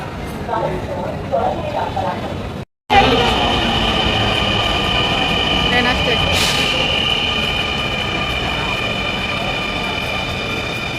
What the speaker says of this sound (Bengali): আমাদের ট্রেন চলে এসেছে, আমরা ট্রেনে উঠবো।